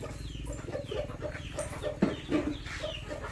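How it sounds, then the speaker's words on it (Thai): Chickens cluck repeatedly in short bursts close by while sharing food with an elephant on a farm, with steady low rumbling and ambient noise underneath. "ดูสิคะไก่กับช้าง กินร่วมกันแล้วค่ะ"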